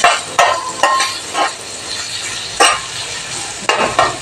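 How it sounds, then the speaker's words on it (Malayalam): Green peas sautéing in a pan, a continuous sizzle punctuated by regular scraping stirs and light metallic knocks of the spoon against the pan, close and fairly loud. "നന്നായി ഒന്ന് വഴന്ന് വരട്ടെ."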